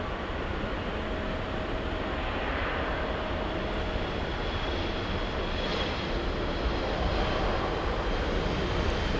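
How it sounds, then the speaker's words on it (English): A Boeing 777 jet on final approach at Los Angeles International Airport produces a steady, distant engine roar with a broad low rumble that holds evenly throughout. "Triple seven on final approach."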